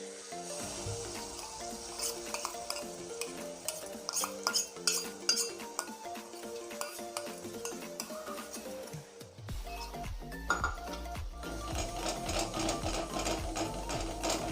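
Black peas and a ground coconut masala fry in oil in a pan, a steady sizzle broken by repeated clinks and scrapes of a spoon stirring against the metal, louder and busier after a brief pause midway.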